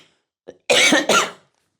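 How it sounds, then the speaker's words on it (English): A person coughing on grapevine cuttings: one faint short sound, then two loud, close, harsh coughs in quick succession, followed by silence. "and cough on my grapevines"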